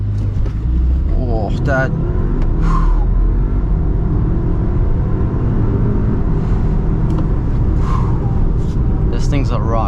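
A 2024 Audi Q5 e-tron SUV launches hard from a standstill in full dynamic mode with traction control off, a deep rumbling surge of road and motor noise heard from inside the cabin, with brief exclamations from occupants over it.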